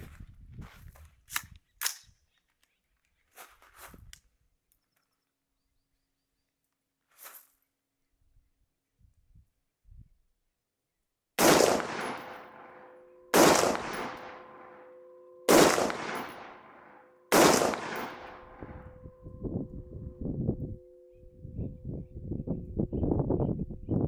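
An AR-15 rifle, a Rifle Supply RS15, fires outdoors in four loud, sharp shots spaced a couple of seconds apart, each with a ringing echo, followed by a rapid string of quicker, quieter reports. Faint handling noises come before the shots.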